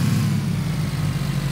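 Car engine in the PUBG video game, a steady, loud low rumble as the vehicle runs without letup, no voices over it.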